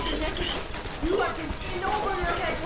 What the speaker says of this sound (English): Oh my god, I'm getting shot.